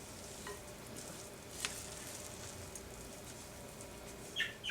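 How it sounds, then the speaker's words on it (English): Seasoning of lemon pepper, fresh ground black pepper and flax being stirred together in a bowl, a soft continuous scraping rustle with a few light clinks, steady and close. "And then we're going to stir this all together."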